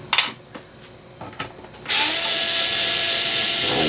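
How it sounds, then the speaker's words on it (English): An electric screwdriver backs Phillips screws out of a Minisforum HX90 mini PC, with a few light clicks and taps first and then a steady high motor whine close by. "I'm using my electric screwdriver"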